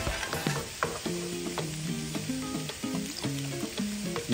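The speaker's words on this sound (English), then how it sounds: "once it starts boiling up" Beans and gravy bubble and sizzle in a pot on low heat, with a busy crackle and repeated knocks of a spoon stirring close by, and no one speaking.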